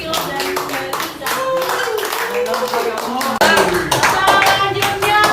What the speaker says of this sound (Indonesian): tepuk tangan untuk kelompok Philo dan Riza